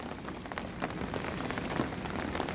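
Steady rain falls on Zhuxi creek in Tainan, a dense, even patter of drops on water with scattered louder splashes, close and continuous throughout, with no voices.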